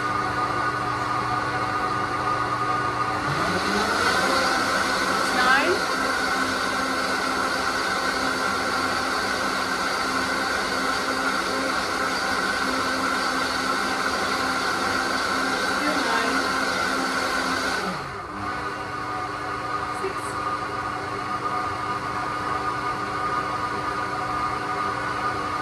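A blender running its automatic cleaning program at speed 6 gives a loud, steady whirring roar that holds for several seconds and then winds down to a lower hum.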